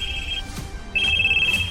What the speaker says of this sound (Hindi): 2 रिंग के बाद ज्योति के पापा ने फोन उठाया